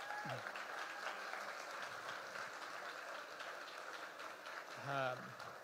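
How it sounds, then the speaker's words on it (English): A fairly distant crowd applauds evenly for the participants of a startup pitch competition in Texas. A voice speaks briefly at the start and again near the end over the clapping. "big round of applause for everybody who pitched tonight."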